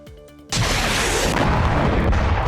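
Explosion in the Rehari area of Jammu and Kashmir: after half a second of quiet, a sudden loud boom bursts in and rolls on as a dense, sustained roar, with no voices.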